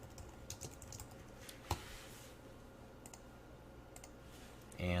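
Rapid typing on a computer keyboard while entering JavaScript code, a quiet, steady run of light key clicks with a few sharper taps, heard on its own with no talking.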